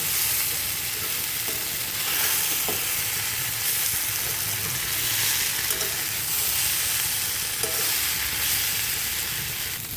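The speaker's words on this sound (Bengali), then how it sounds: "হালকা হালকাভাবে নেড়ে দেবেন।" Fried fish pieces are gently stirred in a sizzling frying pan while a vegetable chorchori cooks, giving a steady close sizzle with soft scraping and stirring sounds and no talking.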